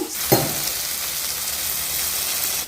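Continuous sizzling of tomatoes frying in a pan for chicken curry, a steady hiss with a brief clink of a utensil near the start.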